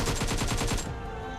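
An AK rifle fires in a shooter video game as a rapid burst of about eight close, loud shots in even rhythm, then stops into a ringing tail.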